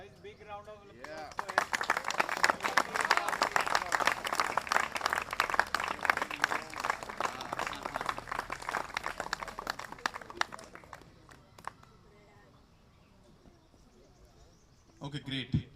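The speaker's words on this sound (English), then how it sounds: "Guys, big round of applause." Loud, dense crowd applause at a cricket championship final-day trophy ceremony swells and holds for about ten seconds, then fades away, leaving quiet voices before a brief burst at the close.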